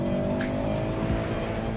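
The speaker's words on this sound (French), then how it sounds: "c'est un mode qui vous permet de passer quasiment tous les virages en glisse" A Ford Focus RS in drift mode slides sideways with a loud, steady engine roar and tires squealing continuously as it holds the slide, close by.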